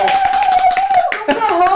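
Enthusiastic clapping from a virtual audience, a dense burst of applause lasting under two seconds, with voices mixed in over the hands.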